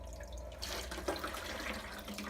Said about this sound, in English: I just grab it from the tank and just pour it in.